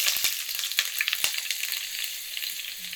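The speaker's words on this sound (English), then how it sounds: "we'll put the onions in" Onions sizzle and crackle steadily in a hot pan for a Sri Lankan curry, with a few sharp spits early on and no talking.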